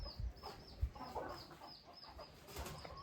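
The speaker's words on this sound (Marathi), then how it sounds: "कोंबड्या सोडल्यात मित्रांनो आपण आता सगळ्या" Free-range country hens let out of the coop on a farm cluck softly and intermittently, with occasional wing flaps and scattered thumps nearby, under a steady outdoor background.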